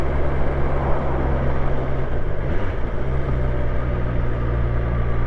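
Steady, loud engine drone from a BMW S1000XR motorcycle on a test ride, a continuous low rumble with smooth revving and wind noise running unbroken throughout, no speech.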